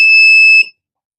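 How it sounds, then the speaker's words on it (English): An Arduino-driven buzzer wired to pin 3 sounds one steady high-pitched electronic tone at a button press, lasting just over half a second before cutting off cleanly, loud and close with no other sound. "And when I press it, you can see the buzzing sound."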